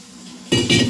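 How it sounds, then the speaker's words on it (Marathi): A metal plate set down with a clank onto a cooking pot of chicken, followed by a brief splash of water poured onto the plate, close and loud. "बघा असं ताट ठेवायचं आणि त्या ताटावर असं पाणी ठेवायचं."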